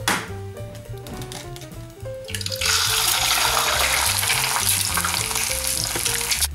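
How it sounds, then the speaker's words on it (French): An egg fries in hot oil in a pan during a Tunisian fish dish, with a loud, steady crackling sizzle that swells and fills the clip after a brief quieter stretch of stirring and clatter. "Allez, je termine par l'œuf au plat."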